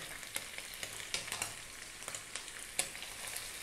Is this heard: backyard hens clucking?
no